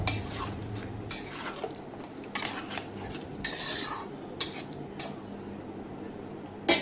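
A spoon scrapes and clinks against a pot as chicken mixed with homemade yogurt is stirred, with irregular metallic knocks and soft scraping at moderate volume, no voices.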